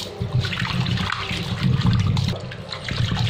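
Sardines washed in water, with sloshing, splashing and dripping in a continuous irregular pattern, close and moderately loud, no talk.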